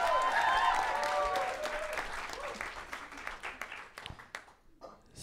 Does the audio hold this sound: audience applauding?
yes